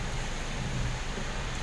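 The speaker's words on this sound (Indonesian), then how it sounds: "Langsung dadak hujan." Rain and wind on a city road during a sudden downpour, a dense steady hiss of falling rain with a low gusty rumble underneath, constant and close.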